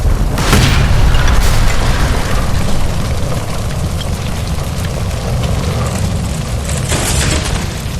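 A loud gas line explosion by a stove in L.A. Noire, a heavy boom followed by a sustained roaring rumble of fire and debris that stays loud throughout.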